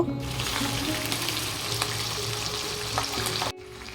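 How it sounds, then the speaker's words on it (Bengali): Loud, continuous sizzling of hilsa fish parcels wrapped in bottle gourd leaves frying in hot mustard oil, with faint scraping, cutting off abruptly near the end. "এক এক করে পাতুরিগুলো কড়াইয়ে দিয়ে দেব"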